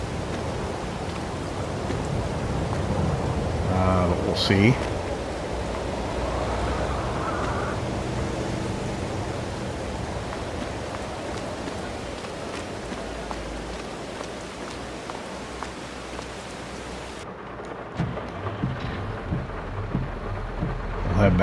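Steady rain and rolling thunder in the video game Farming Simulator 22 fill the whole stretch as a dense, continuous wash, with one brief spoken remark near the end.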